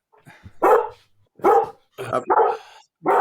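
A dog barks in short bursts, about four or five sharp close barks separated by brief pauses, loud against a quiet room.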